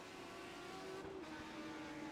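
Race cars circling a road course at Texas Motor Speedway in the iRacing sim, with a steady, quiet engine drone and a brief swell as another car passes close by.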